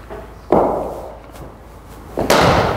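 Two sharp cricket bat strikes on a ball during batting practice on a hard wicket training surface, the first loud and near with a short ringing decay, the second following about two seconds later.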